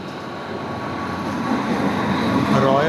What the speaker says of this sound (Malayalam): നമ്മുടെ ഇൻ്റർസിറ്റി എക്സ്പ്രസ് കടന്നു വരികയാണ്